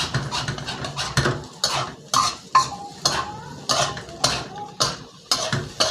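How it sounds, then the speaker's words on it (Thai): Fried rice with fermented pork (naem) and egg-coated rice being stir-fried in a wok, a spatula scraping the pan in repeated rhythmic strokes, loud and close, with a faint sizzle underneath and no talking. "ทีนี้เราก็ผัด เวลาเราผัดเนี้ยให้เราขูดขูดกระทะไปด้วยนะครับ"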